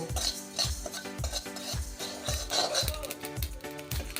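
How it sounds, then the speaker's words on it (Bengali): Steady stirring and scraping of spices frying with mustard in a pan, a regular rhythmic clatter about every half second, with a faint sizzle underneath. "খুব ভালো করে এটাকে ভেজে নেব।"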